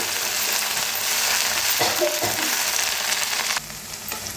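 Fenugreek leaves (methi) stirred in a full kadai, a steady close sizzle with a few brief scraping strokes and a slight drop in level near the end.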